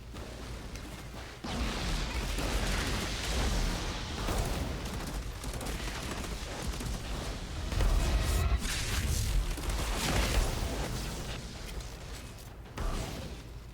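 Exploding spider enemies blowing up in the shooter game Outriders, a dense run of loud booms and crackling blasts layered over continuous gunfire and combat noise, with bursts peaking midway and again near the end.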